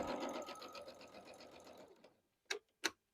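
A sewing machine runs steadily down the bias of a strawberry quilt block, close and mechanical, then stops, followed by two sharp clicks.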